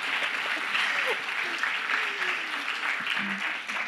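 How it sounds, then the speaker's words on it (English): A conference audience applauds a woman walking onto the stage, dense steady clapping throughout with faint voices mixed underneath. "Please give her a round of applause"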